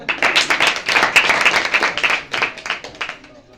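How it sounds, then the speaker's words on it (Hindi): A short round of applause from a small church congregation at a Sunday service, hands clapping loudly and steadily before fading out at the end. "वेरी गुड, तालियां बजाएं।"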